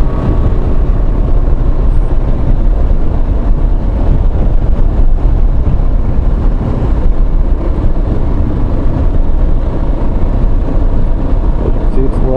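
A motorcycle rides along back roads near Easton, Connecticut, its engine rumbling loud and unbroken under heavy wind buffeting as picked up by a microphone inside the rider's helmet, with a voice talking throughout.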